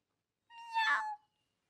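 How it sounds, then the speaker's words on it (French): A single short cartoon cat meow in a French-language children's animated series, clear and close, isolated in silence. "Les chats ne sont pas méchants, n'aie pas peur."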